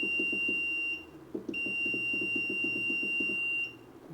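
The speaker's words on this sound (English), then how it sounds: "That's a lot of beeping." A powered-on heater controller on a 1970s Rinker boat with a Mercruiser 165hp engine gives off a steady, high electronic beep that stops briefly and starts again. A low, rapid pulsing runs underneath it.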